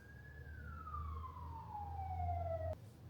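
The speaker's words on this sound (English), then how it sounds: "I'm sorry if I kept on talking while the sirens were there" A distant emergency vehicle siren wails in a single falling sweep over a low rumble of traffic, fairly faint, then cuts off abruptly.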